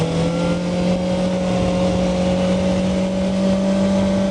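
A Kawasaki ZX-4R sport motorcycle's four-cylinder engine holds a high, steady drone, as if heard while riding, with wind noise mixed in. The whine is loud and continuous and no one speaks.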